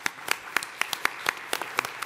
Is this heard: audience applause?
yes